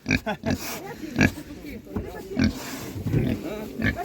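Half-grown pigs grunt repeatedly up close in short, rough bursts at an animal market, while people talk over them throughout.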